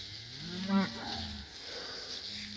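A single cow or heifer moos once on a farm pasture, a clear mid-range bellow that swells and fades over about a second against steady outdoor background noise.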